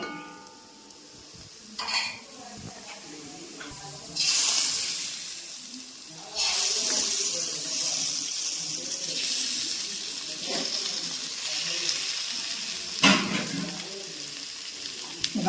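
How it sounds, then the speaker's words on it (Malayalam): Eggs are dropped into masala frying in a pan and stirred, bringing bursts of loud sizzling and splattering between quieter stretches of spoon scraping, close by and without speech. "ഇനി നമുക്ക് ആ മുട്ട ഇതിനകത്തോട്ടൊന്ന് ഇട്ട് കൊടുക്കാം."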